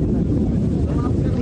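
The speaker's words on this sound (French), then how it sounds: "Dans le ciel, on entend distinctement les réacteurs des avions de combat." Fighter jet engines roaring in the sky over a war front, a dense low rumbling drone that stays loud and steady through the short stretch, with some wind buffeting on the microphone.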